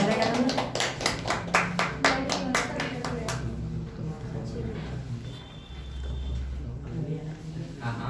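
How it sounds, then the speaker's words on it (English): An audience at a storytelling competition claps in brisk, distinct hand slaps for about three seconds, then fades to a quieter room with voices. "Clap for Virendra."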